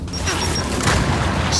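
A grenade detonates in the Gears 5 campaign on Xbox One X, a loud, dense booming blast with crashing debris that fills the whole short moment at close range.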